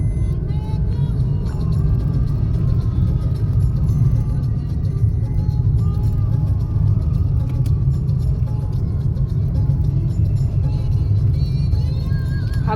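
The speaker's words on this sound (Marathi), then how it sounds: "त्या 2 डोंगराच्या मधून आपण गाडी घेऊन चालतोय" A car driving along a road between two hills in the Konkan, with a steady loud engine and road rumble that continues throughout, close to the microphone, and a voice talking over it.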